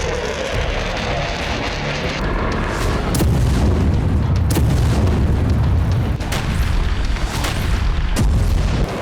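Missile strikes in Ukraine, heard as a heavy continuous roar with several deep booms and sharp cracks breaking through it, loud and sustained throughout.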